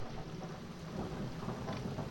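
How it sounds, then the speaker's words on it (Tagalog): Steady heavy rain with a low, continuous rumble of thunder underneath, dense and enveloping, no voices. "May panakanakang kidlat pa at kulog"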